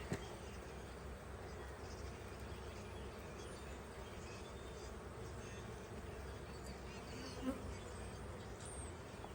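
Honey bees buzz steadily in an overwintered hive colony opened in spring, a dense, continuous hum holding at an even level throughout with no letup.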